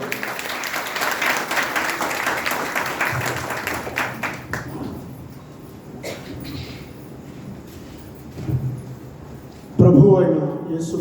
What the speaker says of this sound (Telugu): హల్లెలూయా. చప్పట్లు కొడదాం.